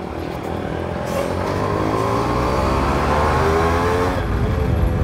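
A modified Yamaha RX 135 five-speed two-stroke motorcycle engine drones steadily while riding, with rising revving tones and constant road and wind noise close to the microphone, no talk.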